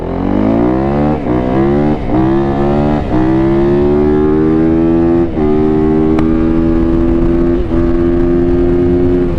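A Yamaha YZ450F dirt bike roars close and loud on a top speed run, its engine pitch climbing steadily through several gear changes, each marked by a brief dip before it pulls higher again.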